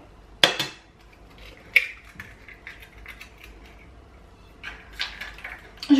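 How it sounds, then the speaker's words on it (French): Two eggs cracked into a salad bowl give a couple of sharp knocks against the rim, separated by quiet pauses, followed by a few light clinks near the end. "dans un saladier, je vais venir casser les 2 œufs"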